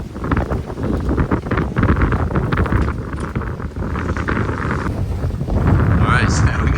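Wind roars steadily across a sailboat at sea off Nantucket with the engine off, a loud, gusty rush buffeting the microphone throughout, with faint voices underneath.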